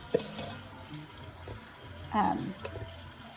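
Tap water runs steadily into a kitchen sink while yeast is being prepared for bread, with clinks and a brief louder splash midway, under a quiet room tone.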